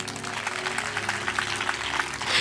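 Applause from a church congregation at a Telugu Christian blessing festival gathering, a steady crackling clatter of many hands that fills the room and swells toward the end.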